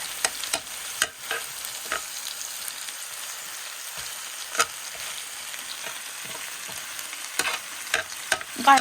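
Pork belly sizzling and crackling on a Korean BBQ grill, a steady close frying hiss with scattered sharp pops and tong clicks, no talk.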